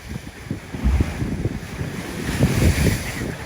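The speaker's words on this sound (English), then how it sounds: "The waves were like up really high." High ocean waves surging onto a beach, with heavy rumbling wash and repeated breaking surges, plus wind buffeting the microphone, heard alone without talk.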